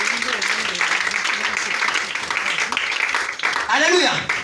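A church congregation claps and cheers for Jesus Christ during a French-language service, with steady applause mixed with voices and a shout near the end.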